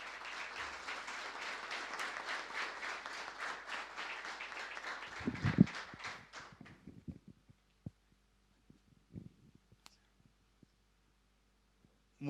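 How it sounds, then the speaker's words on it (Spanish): Audience applause at an evening event honoring Mons. Juan Sinforiano Bogarín, dense clapping from a hall full of people that fades out around six seconds, leaving scattered claps, small bumps and near silence. "Un fuerte aplauso para ellos."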